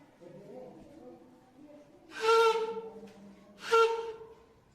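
A homemade instrument made from a pipe with a stretched balloon membrane, blown with air, gives two short, loud, buzzing whistle-like tones in quick succession after faint background murmur.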